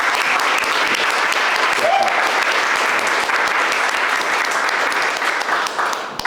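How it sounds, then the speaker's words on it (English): Sustained audience applause at a university closing ceremony on student empowerment in education, steady and dense throughout, with a brief voice briefly rising over the clapping near the middle. "one last round of applause"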